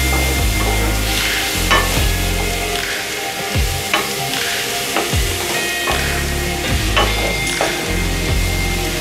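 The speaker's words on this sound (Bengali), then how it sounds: "আর কাঁচা লঙ্কা। এটা ভালো করে কষিয়ে নেব।" Chopped onion and green chilies sautéing in a pan for a pointed gourd curry: a continuous hot sizzle broken by repeated scraping stirs of a spatula at a steady pace, close up with no talk.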